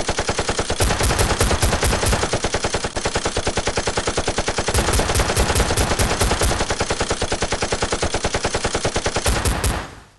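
Rapid automatic gunfire rattles in dense, sustained bursts with brief pauses, loud and close, in an action film scene.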